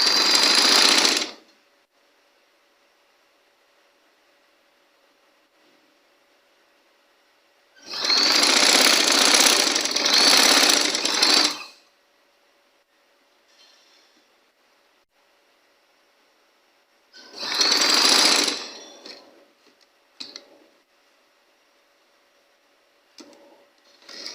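A sewing machine stitches a kurti front panel and its neck strip in three loud, steady runs of a few seconds each, separated by quiet pauses with small handling clicks.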